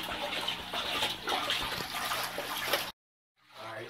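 A cleaned aquarium pump runs in water, giving a steady, close watery rush and trickle that cuts off abruptly near the end, then resumes faintly after a short silence.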